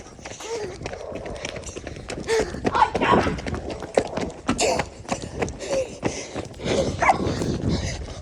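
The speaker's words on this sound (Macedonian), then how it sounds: "О, кучина! Кучина!" A dog barks in several short sharp yelps amid busy outdoor bustle, footsteps and scuffling, while people talk nearby.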